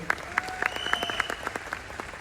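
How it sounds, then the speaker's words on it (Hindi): Audience applause at a seminar in a large auditorium, with scattered distinct claps over a quiet background and a faint steady tone sustained behind them. "एक बार जोरदार तालियां इनके लिए हो सकती हैं"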